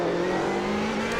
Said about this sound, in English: Now you can hear the traction control really bogging the car down through